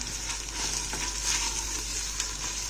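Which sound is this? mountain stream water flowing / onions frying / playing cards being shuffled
onions frying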